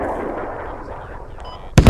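A TOW missile launches in the Squad video game, a sudden loud whooshing blast near the end following a stretch of low rumbling battlefield noise.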